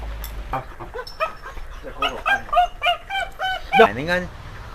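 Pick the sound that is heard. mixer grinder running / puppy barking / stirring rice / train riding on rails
puppy barking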